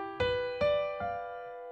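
Single piano notes rise in a skipping pattern, three clear struck tones about half a second apart, each ringing and slowly fading, played alone.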